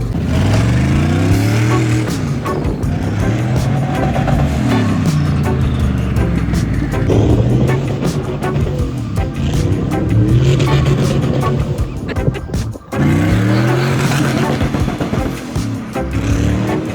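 An off-road vehicle on blown tires with beadlock wheels drives loudly close by, its engine rising and falling through repeated revving swells with rough, grinding rolling noise throughout and a brief dip near the end.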